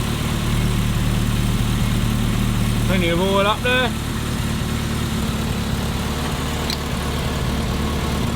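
A 1963 Mini Cooper with a 997 engine and RC40 exhaust idles steadily and loudly throughout, someone talking briefly over the running engine.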